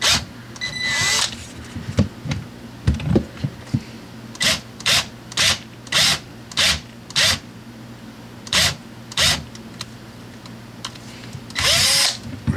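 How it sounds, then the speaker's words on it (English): A step drill bit bores holes in a guitar headstock to fit Grover tuners. About a dozen short, evenly spaced drill bursts whir close by, with quiet pauses between them. "You can use a little stepper bit to open these up."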